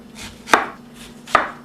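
A knife slices through an onion on a cutting board, two crisp chops about a second apart, each with a soft swish before the sharp knock of the blade, close and clear with no talking.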